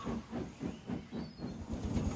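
Steam engines puffing away as they pull out, a quick, regular train of chuffs with a hissy edge, moderately loud and with no voices.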